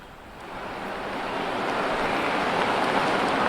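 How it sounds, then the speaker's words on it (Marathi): Heavy monsoon rain pours down in Dadar, Mumbai, near Shiv Sena Bhavan, a dense, steady roar of broadband hiss that swells gradually louder, with no voices. "सर्वत्र मुसळधार पाऊस कोसळतो आहे"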